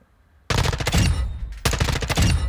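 Bursts of TAQ-56 rifle fire in the MW2 DMZ shooter game, two long rapid automatic strings after a brief quiet start, loud and close with no talk.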